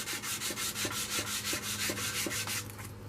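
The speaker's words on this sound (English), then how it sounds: "I know sanding is a long, tedious process." Steady back-and-forth rasping of sandpaper rubbing on wood, repeated strokes at an even rhythm, close and fairly loud.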